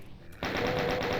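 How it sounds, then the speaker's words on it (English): Rapid machine-gun fire in a Doom mod shooter on the Port Fury map, starting abruptly after a short quiet lead-in and continuing as a steady loud rattle. "They're shooting."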